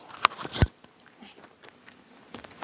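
Close ASMR chewing picked up by a Boya WM3U wireless microphone, a couple of sharp crunchy bites up front, then soft, sparse mouth clicks and moist chewing sounds fading quietly.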